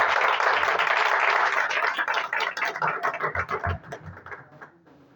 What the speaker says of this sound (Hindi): और जोरदार तालियों के साथ हम खुदावन के कलाम को वेलकम करते हैं